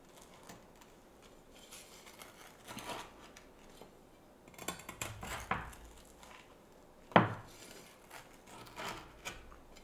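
A knife slices through a pan of homemade brownies in a home kitchen, giving several soft, separate scraping cuts and a sharper clack against the pan, quiet and close, with no voices.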